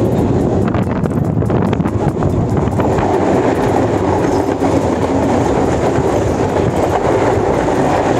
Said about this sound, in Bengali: লক্ষ্মীকান্তপুর থেকে 6 মিনিট পর আবার এই ট্রেনটা ছেড়ে যাবে নামখানার উদ্দেশ্যে